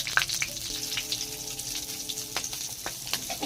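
Bay leaf, dry chillies and whole garam masala fry in oil with a soft, steady sizzle and scattered crackles, fairly quiet and close, a faint tonal hum running through the middle.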